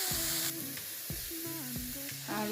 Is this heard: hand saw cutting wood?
no